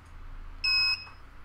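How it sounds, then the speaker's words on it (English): A single short electronic buzzer pulse from a Particle Photon key fob, a bright steady tone lasting about a third of a second against quiet background hum. "And you'll see we get a pulse of the buzzer."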